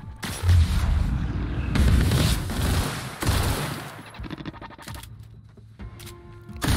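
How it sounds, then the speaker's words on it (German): Pistol gunfire in The Outer Worlds video game: a rapid series of loud, sharp shots in bursts over several seconds, tapering into scattered smaller cracks and clicks, with no talking. "Zeit, die Pistole rauszuholen."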